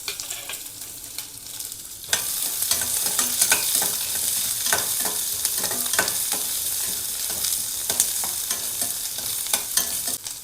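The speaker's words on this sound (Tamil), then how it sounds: "அப்புறம் வெட்டி வச்சுருந்த வெங்காயம் பச்சை மிளகாய் போட்டு வதக்கிக்கலாம்." Chopped onion and green chilli sautéing in a pan with curry leaves for bitter gourd pitlai: a loud, close sizzle that jumps in intensity early on, with repeated scraping stirring strokes throughout.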